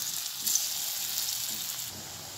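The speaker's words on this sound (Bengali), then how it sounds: "তেলটা ভালো করে গরম হয়ে গেছে, আমি এক এক করে ধোকাগুলো ভেজে নিচ্ছি।" Dhoka, Bengali lentil cakes, frying in hot refined oil, giving a soft steady sizzle and crackle at low level with no talking.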